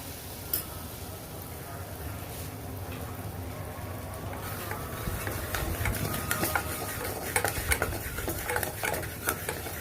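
Butter and white flour cooking in a pan on a medium flame, with a low steady sizzle and stirring scrapes and light clinks of the utensil that grow busier in the second half, close and without talk.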